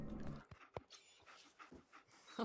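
A companion dog in a Fallout video game pants steadily and softly, with brief whimpering and light yips mixed into the quiet breathing.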